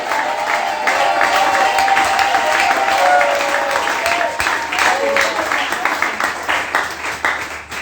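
A church congregation applauding and acclaiming the king, sustained clapping with cheering voices from a crowd, fairly loud and steady before gradually thinning out.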